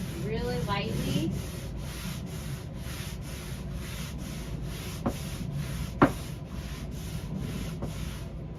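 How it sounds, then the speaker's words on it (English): Light hand sanding with 220-grit sandpaper over a painted IKEA Tarva nightstand, a soft steady rubbing hiss in repeated strokes, close up, with a couple of brief knocks. "I'm gonna sand a little bit with like a 220 sandpaper just to see how it looks, just really lightly."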